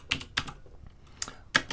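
Three quick bursts of keystrokes on a computer keyboard as a command is typed at a terminal, short clicky clusters separated by brief pauses, close and moderately quiet with no voice.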